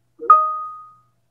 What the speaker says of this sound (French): Cette sonnerie m'énerve, mais je ne sais rien faire